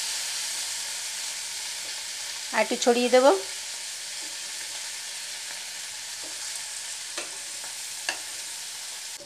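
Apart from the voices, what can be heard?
bitter gourd and pumpkin frying in a pan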